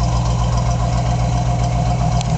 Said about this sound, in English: Great tone from the dual turbo mufflers